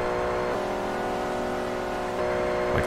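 Mopar-liveried Dodge Viper race car in Forza Motorsport 3 on a speedway, its engine holding a steady loud drone at high revs throughout, with a brief rise in pitch near the end.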